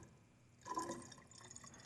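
Distilled water filling a glass hydrometer cylinder about a third full, a faint quiet trickle that swells into a steady splashing pour after a short silence, no talking.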